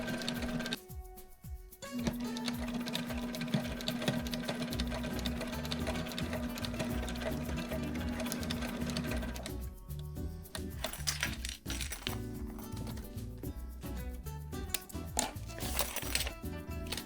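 A sewing machine fitted with a zipper foot stitches a zipper onto a fabric bicycle frame bag, running in long steady bursts of rapid mechanical clatter with a brief pause near the start and another stop partway through, close and alone.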